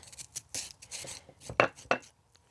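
A spoon scrapes watery seeds out of a halved cucumber, making short, close, wet scrapes and clicks in a quick irregular series, with two sharper knocks near the end.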